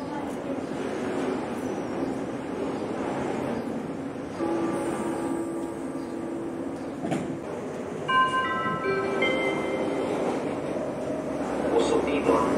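Passenger train of a Slovak railway company pulling into track 1 at Dunajská Streda station heading for Komárno, a steady rumble with tonal brake and motor whines under station ambience, while a public-address voice speaks.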